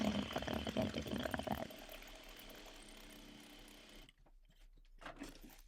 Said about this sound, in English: So about 1/8 of an inch from the edge, we will baste these together.